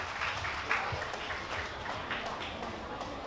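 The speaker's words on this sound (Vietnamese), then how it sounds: "cho một tràng pháo tay thật dài thật lớn" At a temple Vu Lan festival performance, the audience greets the singer with long, full applause, an even, moderately loud mass of clapping throughout.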